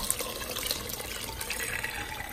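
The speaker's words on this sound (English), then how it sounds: "And we're just gonna add the water." Water is poured into a pot for Mexican fideo soup, a steady splashing, gurgling stream with bright droplet detail, close and continuous throughout without talk.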